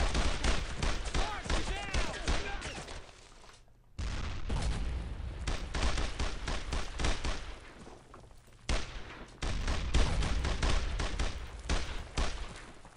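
Dense, fairly distant rattling rifle and machine-gun fire during a Brothers in Arms battle sounds in sustained bursts broken by short gaps, with occasional heavier thuds and a voice calling out faintly amid the shooting.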